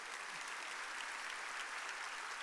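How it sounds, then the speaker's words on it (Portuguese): A Baptist church congregation at a morning service applauds, an even, continuous wash of clapping from many hands, fairly quiet and diffuse throughout. "Vamos aplaudir aquele moço ali,"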